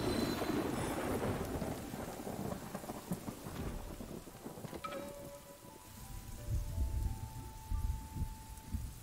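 Rain pours steadily in a city-building survival video game, with rumbling thunder rolling in loudly at the start and returning later, the downpour hissing throughout.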